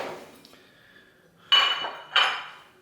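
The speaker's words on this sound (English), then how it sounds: "we'll go ahead and pour the vegetables in" Vegetables being poured into a pot for smoked beef plate short ribs, two clattering bursts of pieces hitting metal close by, separated by a quiet pause.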